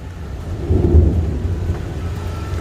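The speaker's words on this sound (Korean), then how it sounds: "천둥이 치네요." Thunder rolls during rain, a deep low rumble that swells and fades over a couple of seconds against a steady background of falling rain.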